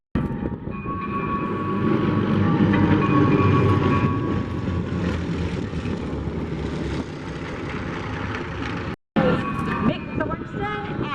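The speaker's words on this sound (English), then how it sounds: "it's going to sound a little bit like a couple of B-17s flying in because it's the exact same engine." Several large piston-engine warbird aircraft at Oshkosh AirVenture, with engines like those on a B-17, roar past overhead in a loud, sustained rumbling drone that cuts out briefly near the end and then resumes.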